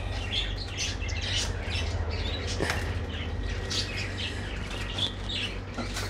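Pigeons, including a large white one, calling and fluttering inside a shop, with soft chirps and coos scattered over a steady low hum, faint and fairly close.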